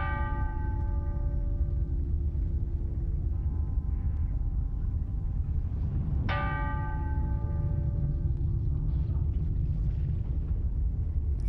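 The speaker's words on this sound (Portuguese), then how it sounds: "todos os sinos das igrejas na cidade começam a tocar" Church bells ringing out across a city during the 1755 Lisbon earthquake, sustained overlapping peals with a fresh strike partway through, over a deep continuous rumble.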